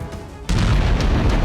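A bomb blast in Beirut erupts abruptly into a loud, heavy, rumbling roar after a quieter opening, its low boom sustained and filling the rest of the moment.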